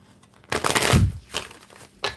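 Tarot cards being shuffled by hand, a short crisp riffle of papery flicks and rustles swelling for about a second, followed by quieter fainter shuffles close by.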